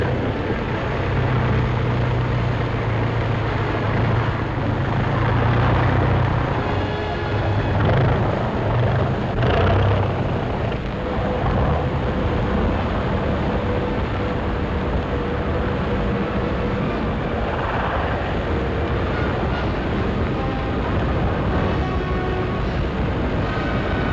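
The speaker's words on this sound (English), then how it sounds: "Nylon tow ropes pay out as the plane taxis down the runway." Propeller engines of WWII glider tow planes droning steadily as they taxi down the runway and take off, a dense, continuous roar with no talk.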